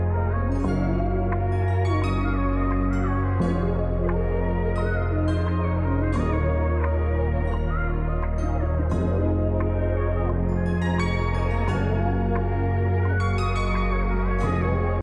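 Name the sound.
keys part played over a loop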